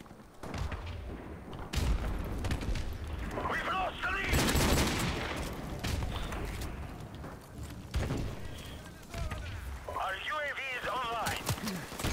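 Call of Duty Modern Warfare Remastered gameplay with scattered gunshots and several sharp explosive bursts at irregular intervals, under a player talking over the action.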